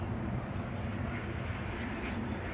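Logan Air passenger plane landing at Manchester Airport after a flight from the Isle of Man, a steady low engine rumble and broad roar holding constant throughout, no voices.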